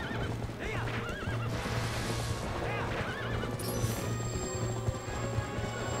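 Horse neighing in the Zelda Twilight Princess HD video game, several whinnies rising and falling over busy game music and effects, with hoof clip-clops, fairly loud and close.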